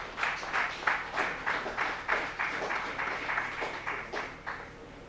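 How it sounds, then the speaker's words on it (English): A live audience in Ija-Ekiti, Nigeria, applauds at an award ceremony honouring daring. The clapping comes in quick rhythmic waves for the full five seconds, with faint voices in the crowd. "Give me a round of applause."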